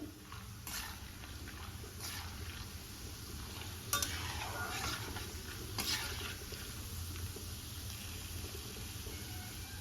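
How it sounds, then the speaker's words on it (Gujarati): Roasted chana dal and peanuts frying in oil for a puffed-rice chevda: a steady, faint sizzle and crackle with occasional soft stirring scrapes of a spoon in the pan. "હવે આપણે તેમાં દાળિયા એડ કરી દઈશું અને દાળિયાને પણ આપણે થોડા ક્રિસ્પી થાય ત્યાં સુધી થવા દઈશું"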